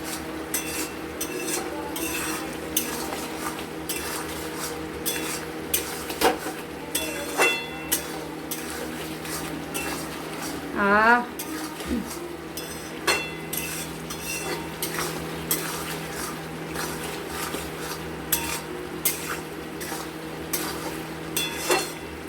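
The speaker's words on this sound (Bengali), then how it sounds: "এটাকে আবার একটু নাড়াচাড়া করে দেবো। এটা একটু কষা কষাই করবো আমরা।" Small fish and potatoes being stirred while they sauté in a pan, a spatula scraping and clinking steadily against the metal with a soft sizzle underneath and a brief louder scrape midway, no talking.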